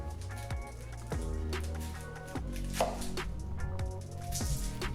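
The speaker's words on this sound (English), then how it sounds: "So let's go and get our onion chopped." An onion being chopped on a board, a series of distinct knife thunks at an uneven steady pace over soft background hum, fairly quiet and close.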